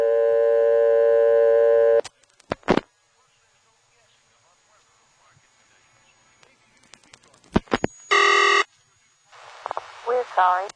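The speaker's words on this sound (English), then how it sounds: "when you get to the 7th digit, it superimposes a reorder" A harsh buzzing reorder tone on a GTE payphone line, short loud bursts cutting in between clicks and line noise, with a steady tone at the start and radio bleed picked up faintly on the line.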